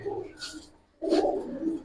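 Pigeons offered for sale, including a red crossbred bird, coo softly nearby in two short bursts separated by a brief pause, with no talking.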